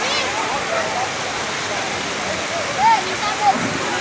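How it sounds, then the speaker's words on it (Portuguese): Water pouring over the spillway of the Farinha dam in Patos, Paraíba, a steady broadband roar of overflowing water that holds constant throughout, with a couple of brief faint tonal sounds over it. "Barragem da Farinha. Transbordando aí, ó."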